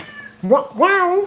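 A house cat gives two drawn-out meows close by, the second longer and louder, while a person reacts with brief exclamations.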